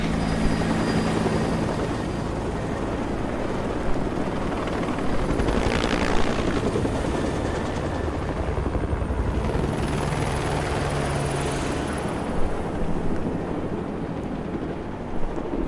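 Helicopters fly in a video game, their rotors thumping in a loud, continuous drone for about sixteen seconds. The sound swells slightly in places, with a faint high whine over the wash.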